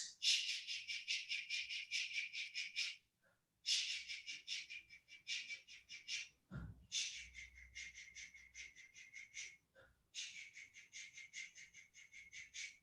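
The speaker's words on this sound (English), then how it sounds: "We're going to breathe into that rubber ring and we're going to pant." Bass-section choir singers pant together as a breathing exercise, pushing out quick, breathy huffs in four fast rhythmic runs separated by brief pauses, close and steady, with no talking.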